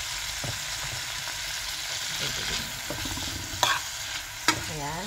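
Vegetables stirred and fried in a pan, a steady sizzle with a few sharp scrapes and clinks of the utensil, close and moderately loud, no talk.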